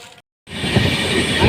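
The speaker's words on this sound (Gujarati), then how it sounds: "ફાઇનલી ટ્રેન આવી ગઈ છે" A passenger train pulls in at a station: a steady, loud rumble of wheels and carriages with hiss rolls on after a brief silent gap.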